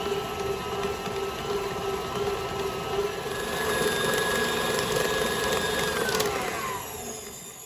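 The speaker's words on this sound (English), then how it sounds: "Let this cream in your mixer for a good 5 to 7 minutes." A stand mixer creams cake batter for a chocolate-coconut pound cake with a loud, steady motor whir and a whining tone that drifts in pitch, running continuously without voices.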